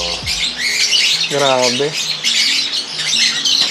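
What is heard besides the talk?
many birds calling in an aviary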